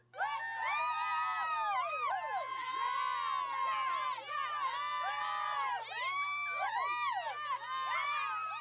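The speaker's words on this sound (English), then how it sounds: "What are they cheering about?" A crowd of excited, high-pitched voices cheers and whoops loudly, overlapping shouts rising and falling continuously, with a brief dip midway and a steady low hum beneath.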